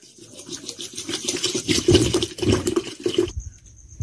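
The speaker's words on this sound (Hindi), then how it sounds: "देखिए मैंने दो लीटर पानी मिला लिया इसमें" About two litres of water poured into a homemade apple wine mixture of apples, lemon juice and sugar, a continuous splashing liquid pour that stops abruptly near the end, close and moderately loud with no talk.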